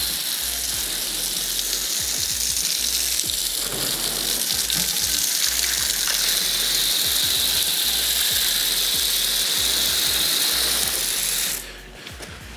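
A steady, loud hiss of pressurized water sprays car wheels and tires during a rinse, continuous and close with some rattling underneath, cutting off near the end.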